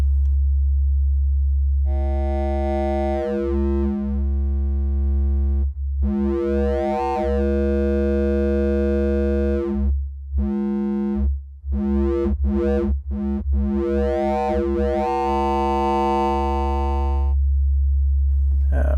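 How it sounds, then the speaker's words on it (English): A buzzy synthesizer tone from a sine wave through the wave folder of an Erica Synths Graphic VCO, rich folded harmonics, held steadily and briefly cut or retriggered in stuttering bursts, no voices. "So we've got the wave folder here, which has got a sine wave going in."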